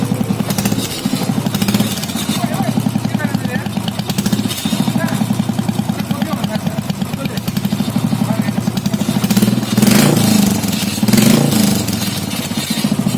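A Royal Enfield Classic motorcycle engine with the silencer removed, loud and raw, idling with a rapid, steady putter and surging in two louder revs near the end.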